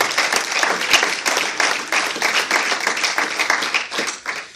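A church congregation breaks into dense, sustained applause, many hands clapping steadily and evenly for several seconds with no pause or speech over it.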